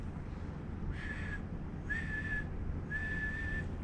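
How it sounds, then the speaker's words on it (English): Three loud, shrill emergency whistle blasts signalling a call for help, each about half a second long, evenly spaced over a steady background rush. "that's the whistle blowing call for help"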